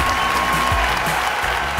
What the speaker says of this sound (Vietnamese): hãy cho họ một tràng pháo tay chúc phúc cho họ